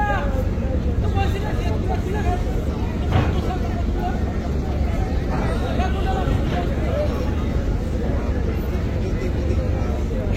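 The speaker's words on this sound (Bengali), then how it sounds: "দেখছেন বরিশাল ঘাটে কীর্তনখোলা 10-এর আগমন" Passenger launch Kirtonkhola 10 arriving at the Barishal launch ghat during an Eid special trip at night, a steady loud engine drone and river rumble filling the whole stretch, with crowd noise in the background.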